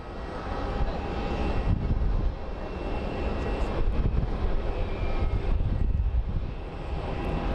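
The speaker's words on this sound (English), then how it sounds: "It's an American Airlines A321." An American Airlines Airbus A321 jet passes at Phoenix Sky Harbor International Airport. Its engines give a loud, continuous rumbling roar for the whole stretch, with no talking.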